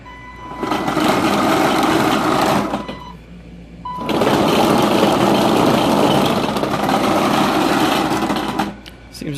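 Small electric motors whir loudly on a 1/6 scale Sd.Kfz 250 model half-track with Delrin tracks, two long running bursts separated by a brief pause, with a steady high-pitched mechanical buzz.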